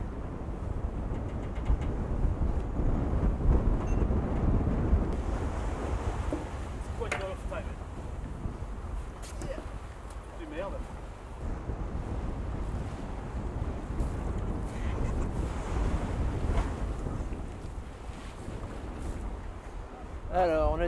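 Constant wind buffeting and rushing sea aboard a sailing schooner in Baffin Bay, a dense roar that fills the whole stretch while voices talk over it.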